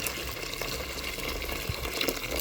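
Hot water pours steadily into a cooking pot to be boiled, a continuous close splashing wash with no voices over it.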